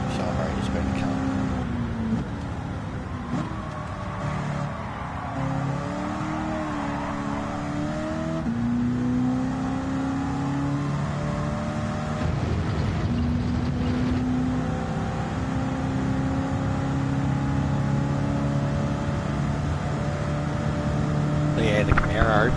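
An 89 Corvette carrying a Camaro engine in Gran Turismo 7, its engine droning and revving steadily with pitch rising and falling through gear changes, a continuous mid-loud motor tone with a voice talking over it.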